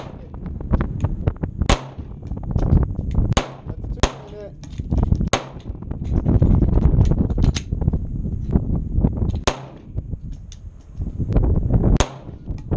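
Gunshots from a handgun at an outdoor shooting range during a July 4th shooting competition, a dozen or so sharp loud cracks fired in quick succession with irregular spacing, with people talking between them.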